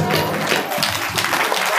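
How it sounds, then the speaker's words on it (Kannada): Loud, dense clapping from a wedding audience fills the whole stretch evenly, with a faint crowd murmur beneath and no clear voices on top. "ನೀವೆಲ್ಲ ಅದೇ ಜೋರಾಗಿ ಚಪ್ಪಾಳೆ ತಟ್ಟಬೇಕು"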